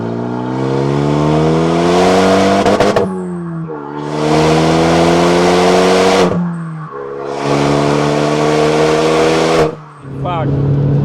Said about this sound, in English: Okay, this is a fast car, guys.